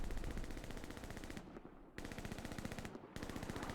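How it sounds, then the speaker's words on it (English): Rapid machine-gun fire rattles against a Panzer IV tank in the Hell Let Loose combat game, dense bursts of gunshots running nearly continuously with two brief gaps, loud and close. "That is the Panzer IV being shot at."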